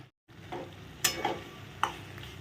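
Spice masala for papaya kofta fries in a pan while being stirred, giving a soft continuous sizzle with a few sharper scrapes of the spoon, close and without voices.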